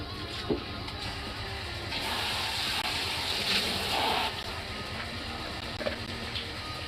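Water pours into a pet's bowl, a soft gushing splash lasting a couple of seconds amid quiet indoor background noise, with no voices.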